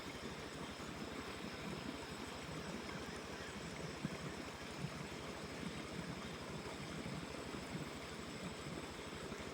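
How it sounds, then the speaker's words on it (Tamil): Steady rush of Kaveri river water flowing near a temple, a continuous broadband wash heard alone without any voices, fairly faint and unbroken throughout. "தண்ணீர் சத்தம் நல்லாக கேட்கிறது."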